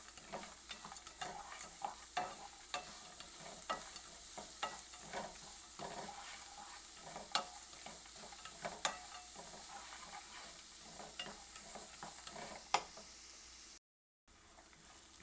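Onions caramelizing in a pan over a medium flame, a continuous gentle sizzle broken by regular stirring scrapes and taps, close and steady, with a brief dropout near the end.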